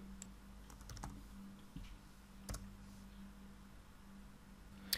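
Faint typing on a computer keyboard at a command prompt, scattered soft key clicks in an uneven rhythm over a low steady hum, with a sharper tap near the end and no talk.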